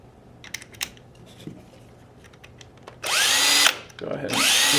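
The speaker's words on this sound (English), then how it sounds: "Go ahead and remove those Phillips head screws." A powered driver removes Phillips head screws from an A5 paintball marker's trigger assembly, starting with faint clicks and taps, then loud sustained whirring bursts close up, with a brief pause between runs.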